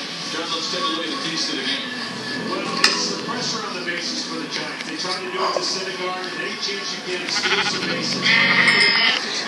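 Sheep bleating in the video game Minecraft (Pocket Edition), several bleats scattered through the clip and partly under a continuous layer of game sounds and talking.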